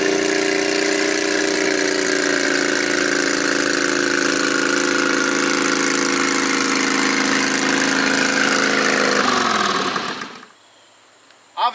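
A John Deere 214 garden tractor with a Predator 670 V-twin engine and welded Peerless 2300 transmission, its engine droning loud and steady under load for about ten seconds before cutting off abruptly, then near silence.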